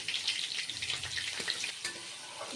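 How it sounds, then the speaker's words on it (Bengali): Cumin and nigella seeds fry in hot oil in a pan, making a soft, steady sizzle with light crackling and a few stirring clinks. "জিরে আর কালো জিরেটা ভালো করে ভাজা হয়ে গেছে"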